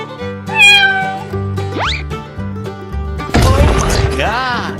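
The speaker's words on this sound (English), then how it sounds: "Cat." A cartoonish cat meows twice in a 3D animal video game, rising bright calls heard over steady game music with sound effects and a burst of clatter following.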